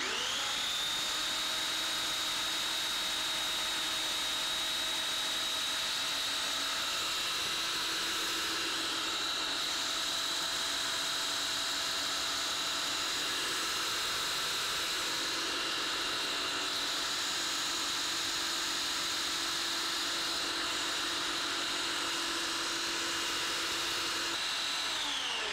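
A food processor blends vegan dessert ingredients, giving a loud, continuous motor whine with a steady high tone that holds for the whole stretch without pause.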